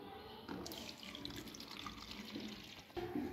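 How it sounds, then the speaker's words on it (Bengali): Orange juice trickling slowly through a strainer into a jug, a soft, steady splashing stream, fairly faint and close, with a slight change in flow near the end. "এটা আমি একটু ছেঁকে নিব স্ট্রেইনার দিয়ে। আমি জগে ছেঁকে নিচ্ছি আস্তে আস্তে করে।"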